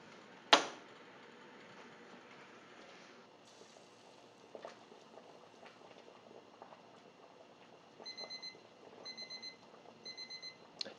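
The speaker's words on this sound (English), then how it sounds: "So I'm going to set my timer for 3 minutes" A kitchen timer beeps after corn on the cob has boiled, sounding in short repeated bursts of high electronic tones near the end, following a sharp clack and a quiet stretch of kitchen background.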